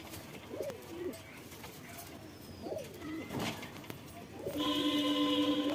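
Black shocking pigeons, a male and a female, coo in several rising and falling phrases at close range, with a brighter burst of calls near the end.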